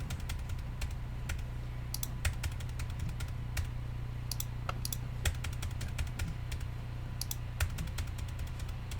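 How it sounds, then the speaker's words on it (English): Computer keyboard with the delete key tapped over and over, sharp close clicks in quick irregular bursts over a steady low hum. "So I'm going to click on this, and I'm going to hit delete, delete, delete, delete, delete, delete, delete"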